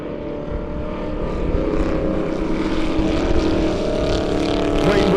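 Race cars at a speedway heat race roar past together, a loud, rising and falling engine drone that builds over the few seconds, with no talk.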